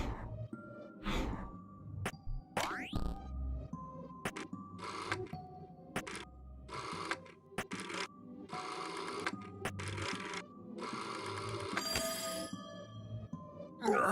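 A telephone rings in repeated electronic bursts, each a few short buzzing pulses followed by a gap, moderately loud over quieter background sounds and a few brief voice fragments.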